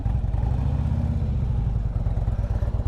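A 2016 Harley-Davidson Street Glide touring motorcycle, roughly 800 pounds, being backed up, its engine idling in a loud, close, low pulsing rumble with no talking.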